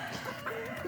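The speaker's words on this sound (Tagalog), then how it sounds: "Yung manok, yung chicken, yung chicken." A chicken on a small farm gives soft, brief clucks over faint outdoor background noise in a short moment.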